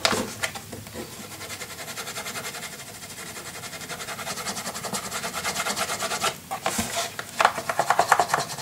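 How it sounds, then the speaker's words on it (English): Burnishing tool rubbed firmly along the inside hinge of a memory box kit, a steady close scraping rasp that runs continuously with a few sharper strokes near the end. "I am going to burnish my inside hinge nicely attached."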